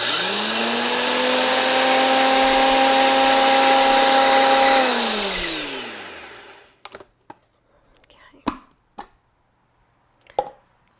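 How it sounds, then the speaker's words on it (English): An electric spice grinder whirs loudly for about five seconds, blending powdered apple pie spices, then winds down in pitch. A few sharp taps and knocks of the grinder being handled follow in near quiet. "just blend these up in my spice grinder just to get everything incorporated, even though they're just powders."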